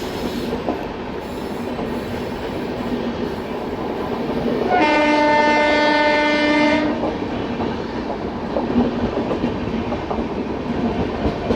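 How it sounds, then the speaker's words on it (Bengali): The Howrah Bhopal Weekly Express rolls past with continuous wheel clatter, and a long, loud horn blast rings out midway before the rumble carries on. "Howrah Bhopal weekly express"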